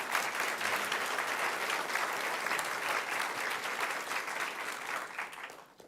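An audience at a Bossier city council meeting applauds in a sustained, even burst of many hands clapping, moderately distant in a large room, tapering off over the last second.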